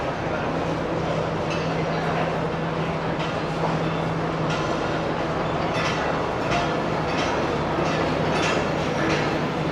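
The 8DN Tezgam express train runs past on the Sialkot–Wazirabad line, a loud, steady rumble with rhythmic wheel clatter that keeps going for the whole stretch.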